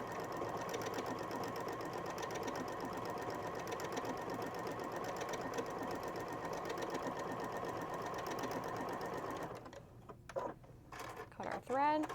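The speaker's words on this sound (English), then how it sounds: "So let's just do a quick little sew out. Oh, let's pick up that speed a little bit there." A Juki DX-series sewing machine stitches a sample at speed, a fast continuous rattle of needle strokes that stops near the end, followed by faint handling clicks while a voice talks.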